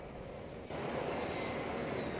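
Helicopter engine in Arma 3, a steady droning roar that jumps abruptly louder partway through and then holds constant, with no voices.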